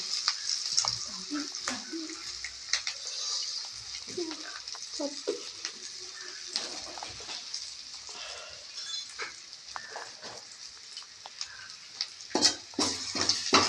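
Green chillies and two sprigs of curry leaves fry in hot oil in a pan for a chicken curry, giving a steady close sizzle with scattered clinks of stirring that grows louder and crackles toward the end.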